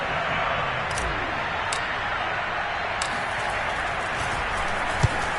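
Crowd applause for the defense at a Packers vs Buccaneers football game, a steady wash of distant clapping and crowd noise with a few sharper claps, continuing without a break.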